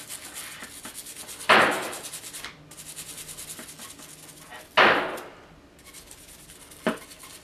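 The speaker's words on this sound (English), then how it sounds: "we're going to also scrub just the outside of the barrel like such." A revolver barrel's outside is scrubbed of carbon using M Pro 7, steady close brushing rubs with three louder strokes standing out.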